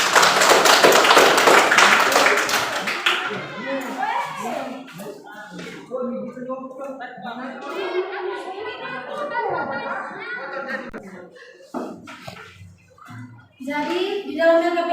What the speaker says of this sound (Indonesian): Jadi sekali lagi tepuk tangan untuk kita semua.